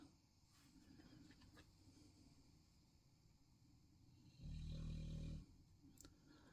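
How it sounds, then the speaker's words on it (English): Quiet, low snoring from a dog drifts through a near-silent room, with one louder rumbling snore near the end. "Sorry about the snoring there."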